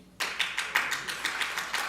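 Applause from a conference audience at a speech on Pakistan's economy, a burst of clapping with rhythmic peaks that starts abruptly, moderately loud and close, with no voices over it.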